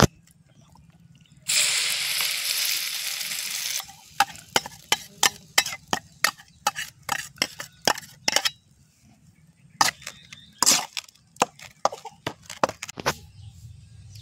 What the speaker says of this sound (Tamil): இப்போ கொஞ்சமாக எண்ணெய் ஊற்றி தாளித்து எடுத்துடலாம். கடுகு போட்டுடலாம்.